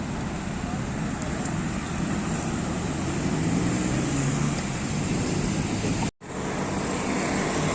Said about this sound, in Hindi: बेतहाशा ट्रैफिक है इस रोड पर,